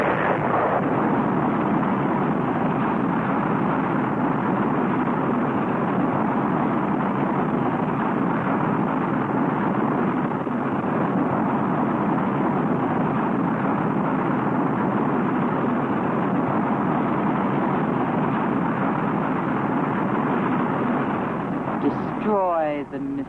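Missile attack explosions in a 1965 sci-fi film, heard as a continuous loud roar of rumbling blasts and bursts that runs steadily for the whole stretch, with a brief whine near the end.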